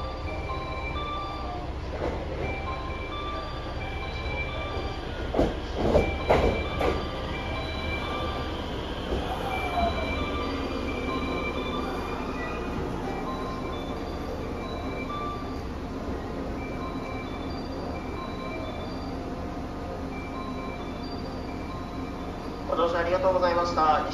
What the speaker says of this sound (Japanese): 4番乗り場東舞鶴行きの特急列車が到着です。